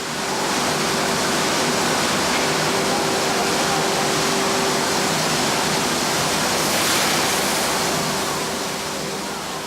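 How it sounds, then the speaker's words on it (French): A robotic machine brushes wheels of Emmental cheese to clean them and scrape off some rind, making a steady, loud broadband whooshing and scrubbing roar with a faint constant mechanical hum, continuous throughout. "Les meules sont amenées dans une machine robot qui les brosse pour les nettoyer et enlever un"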